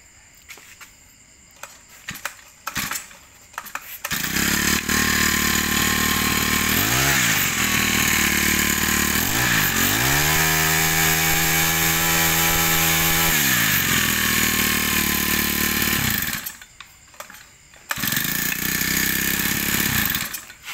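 A used Japanese 42cc four-stroke brush cutter engine with a 35 mm bore idles with a buzzing rattle, then revs up loudly, revving up and down for several seconds before dropping back to a rough idle and revving again.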